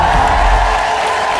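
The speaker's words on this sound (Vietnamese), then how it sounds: "Một tràng vỗ tay cho hai trò." A studio audience at a televised Vietnamese rap show applauds two performers, a steady dense wash of clapping and crowd noise that holds evenly for its short length.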